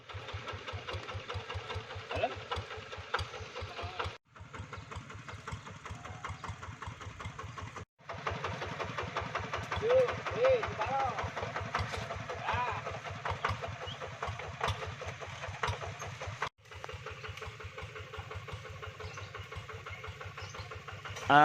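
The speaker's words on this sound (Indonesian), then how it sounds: "mesin bajak sawah ini ternyata nggak ada remnya" A hand tractor plough engine chugs in a rice field, a steady rapid mechanical putter at close range that cuts out briefly a few times before resuming, with faint voices now and then.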